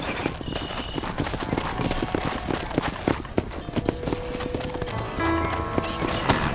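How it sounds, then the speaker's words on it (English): Horse hooves clip-clop steadily in the Red Dead Redemption western video game, a fairly close, rhythmic run of hoofbeats with brief tonal game sounds and a short whinny-like note toward the end. "Go on, hit your horse and wait for me by the stable."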